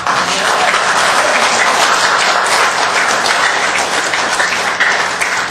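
Loud, dense applause from the audience at a Glendale city council meeting, a close, even roar of many hands clapping that holds steady from start to finish.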